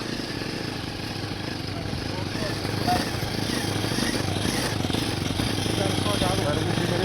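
A motorcycle engine runs steadily and loudly throughout an off-road ride toward Lakuri Bhanjyang, a continuous mid-pitched drone with wind noise while people talk over it.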